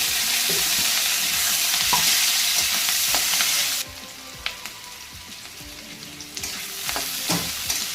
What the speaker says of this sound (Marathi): चला कांदा भाजत आलेला आहे